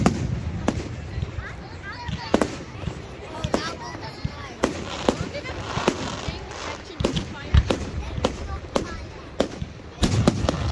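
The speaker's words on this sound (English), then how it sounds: "Big firework." Bonfire night fireworks in a Scottish hometown display, with sharp booming bursts going off irregularly and repeatedly, several loud and close, over crowd chatter and voices throughout.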